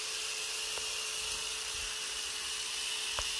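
A hedge trimmer cuts low into the base of a holly topiary shrub at an entrance way, giving a steady, buzzing motor whine that runs unbroken and close throughout.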